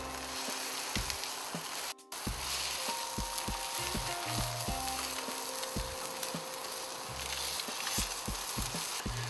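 Thin fish fillets sizzle skin side down on a hot barbecue plate, a continuous close frying hiss with scattered crackles and pops and a brief dropout partway through, no voices.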